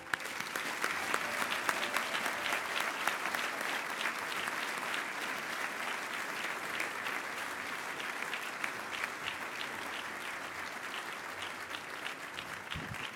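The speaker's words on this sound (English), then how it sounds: "Please join us in a round of applause to honor these remarkable friends and colleagues." Sustained applause from diners at an annual awards dinner honoring remembered colleagues, a dense, even clapping texture lasting over thirteen seconds, moderately loud and steady throughout.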